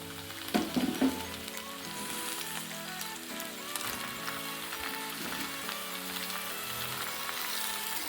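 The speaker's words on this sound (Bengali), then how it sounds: "কিছুক্ষণের জন্য একটু ভাজা ভাজা করে নেব" Peas and spinach fry in a wok for a Bengali palak shak curry, making a steady soft sizzle with light crackles and a few louder stirring clatters near the start.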